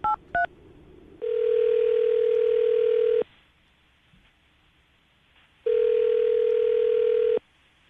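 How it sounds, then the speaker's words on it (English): A telephone line with short dialing tones, then two long steady ringback tones separated by a pause, clear and close with no talking. "we're about to dial her phone number right now"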